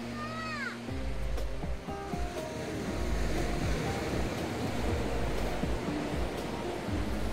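Andaman Sea waves washing onto a beach in the evening, a steady broadband surf roar that fills the clip after a brief voice at the very start.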